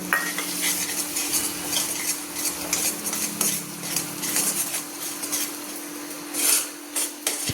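Crab's yellow part sautéed in masala for a Purandar-style crab curry, with metal spatula scrapes and clinks against the pan over a low steady sizzle, close and continuous without talk.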